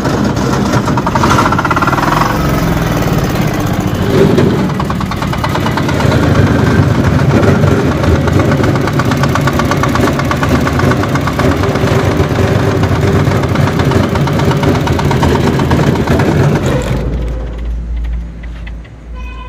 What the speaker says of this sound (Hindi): देखिए तो साउंड तो बहुत है भाई, शीशा वगैरह पूरा झनझनाहट आ रहा है